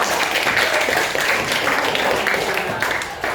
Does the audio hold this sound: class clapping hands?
yes